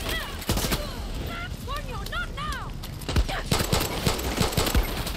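Gunfire in Far Cry 6, with scattered shots and a few sharp loud cracks toward the end, mixed with horse-like whinnying sounds and busy in-game noise.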